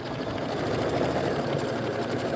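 An embroidery machine stitches a Kimberbell bunny trail quilt block with a continuous, dense whirring hum that stays steady and fairly loud throughout, with no voices.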